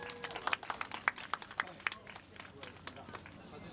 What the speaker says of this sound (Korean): 자 여러분 큰 박수 보내주시기 바라겠습니다